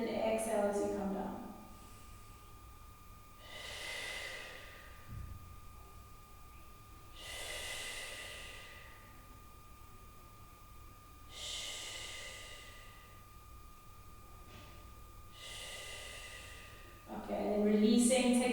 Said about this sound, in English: Breathing in as you lengthen, exhale as you come down.